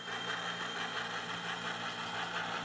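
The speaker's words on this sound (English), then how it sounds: "remotored, redecoded Blackstone engine, which has a TCS decoder in it, which is why it sounds so realistic" A remotored, redecoded HO scale model Blackstone locomotive with a TCS sound decoder, its engine sound running in a steady droning, throbbing idle, quiet and even throughout with no pauses.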